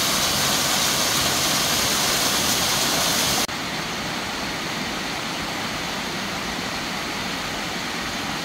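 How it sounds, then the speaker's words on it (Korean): Steady rushing water from a mountain valley stream on Juheulsan during a February hike, a broad continuous roar that shifts slightly in tone partway through, with no voices. "잠시 후 계곡의 물소리는 또 들려옵니다"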